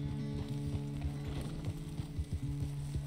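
Horse hooves clip-clop at a steady walking rhythm in Red Dead Redemption 2, quiet and close over a low steady tonal hum.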